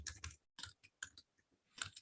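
Fingers tap a MAC address out on a computer keyboard in short clustered bursts of quiet clicks separated by brief pauses, with no voices.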